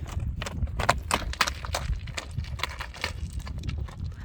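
A four-year-old Karabair horse, shod for stony mountain ground, walks nearby with crisp, uneven clip-clop hoofbeats on a hard surface, fairly close and loud, with no talking.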